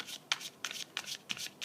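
Tarot cards are shuffled by hand in several quick riffling bursts with short pauses between, close and fairly crisp, with no talking.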